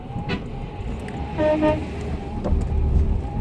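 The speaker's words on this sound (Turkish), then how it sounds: "Lastik buna bakın karşıdan kamyon geliyor" On a salted, snowy winter road, a truck approaches from the opposite direction amid steady road and engine noise, with a brief horn-like tone and a swelling rumble as it nears.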